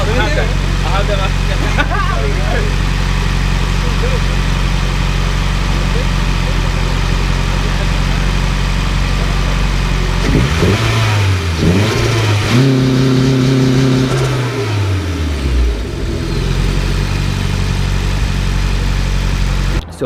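A Nissan B14 with a turbocharged SR20DET engine and a Turbosmart blow-off valve, loud and close, idling roughly and then revving up and dropping back, with the valve venting as the revs fall and a voice speaking briefly over it.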